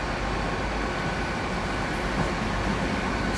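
Train rumbling steadily through Exeter St Davids station, a continuous low roar with no clear peaks, loud and close throughout.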